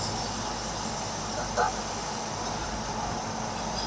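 Pork belly stir-fried with garlic in a pan over moderate heat gives a constant broad sizzling hiss, with one short scrape of the utensil midway.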